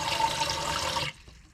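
Water running from a tap in a motorhome, a steady broadband rush that stops abruptly after about a second, leaving faint residual drips and quiet room noise.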